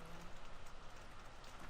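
Rain in Farming Simulator 17 falls steadily, a dense, even hiss of drops that stays soft and continuous for the whole moment, with no voices.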